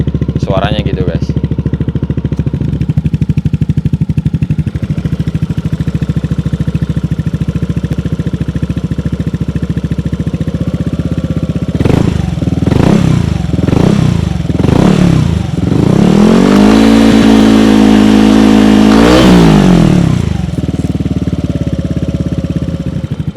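A modified Yamaha Aerox Alpha Turbo scooter engine idles steadily after starting, then is revved in several quick blips followed by a longer rising and falling rev before settling back to idle, loud and close.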